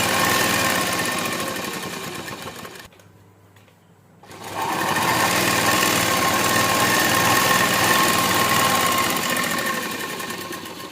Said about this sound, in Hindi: यहाँ से सिलाई लगाएंगे